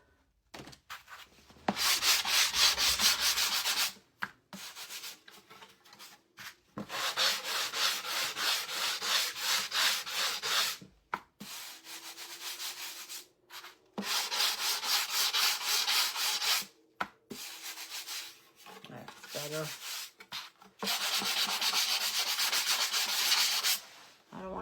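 An 80-grit sanding sponge rubs over wood for a Halloween shelf sitter, in long steady bursts of close, harsh scratching separated by short pauses, with no talking.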